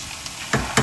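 Tomato puree hits a hot pan of ground spices in a home kitchen and sets off a loud close sizzle in two quick bursts, with no talk.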